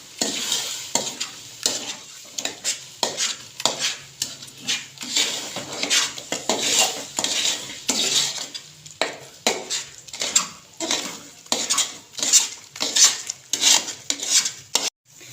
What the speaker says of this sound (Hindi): इसको मुसलसल चम्मच चलाना है।